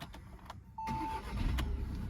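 A cold car engine catches quickly after a few faint clicks, then settles into a low, steady idle close by, with no talk.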